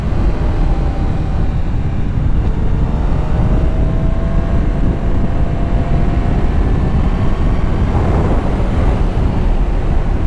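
A BMW S1000RR motorcycle leans through curves, its engine a continuous drone buried under heavy wind rush, with a few faint rising pitch sweeps as the revs change.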